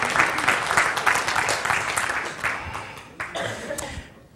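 Audience applause at a workshop, a dense, lively burst of many hands clapping close by that tapers off toward the end, with a few brief scattered claps trailing out.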